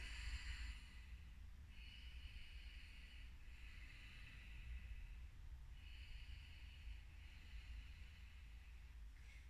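Slow, steady breaths in and out during a yoga downward dog pose, faint and close, with soft airy hisses repeating at an even pace over a low background rumble.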